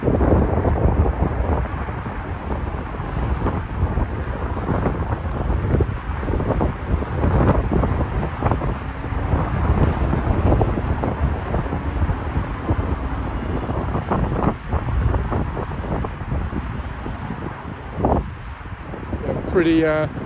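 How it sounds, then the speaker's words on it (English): Strong wind buffets the microphone for the whole stretch at the Olympic Park in London, a constant low rumbling roar with gusty surges and no voices. "Pretty breezy day today, pretty windy."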